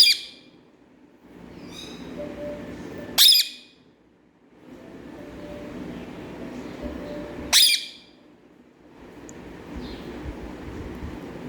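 A peacock calls near a temple: two loud, piercing cries spaced a few seconds apart, with a fainter honking call at the start, all over a steady low outdoor rumble.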